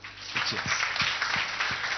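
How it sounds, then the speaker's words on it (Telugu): An audience at a college campaign event claps in a brief burst of applause, several sharp hand claps in quick irregular succession, fairly close and moderately loud. "Just give a clap to them also."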